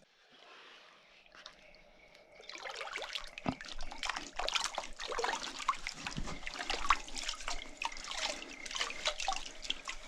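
Water is poured and trickles while a gold sample from crushed quartz rock is rinsed out, starting quiet and then turning into a close, splashy, dribbling flow with drips that lasts to the end.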